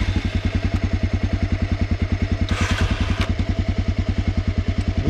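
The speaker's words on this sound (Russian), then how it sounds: "Видите, китаец не хочет заводиться." Chinese carburetted motorcycle engine chugging in a steady rapid rhythm, loud and close throughout, with a brief burst of hiss midway; no voices.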